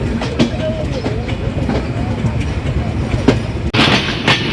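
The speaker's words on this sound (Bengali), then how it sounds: "ঈশ্বরদী বাইপাসে প্রবেশ করছে ঢাকা অভিমুখী আন্তনগর পদ্মায় রয়েছে" The Padma Express, a Dhaka-bound intercity train, runs onto the Ishwardi bypass with a steady close rumble and clickety-clack of its wheels. A sharp burst of louder noise breaks in near the end.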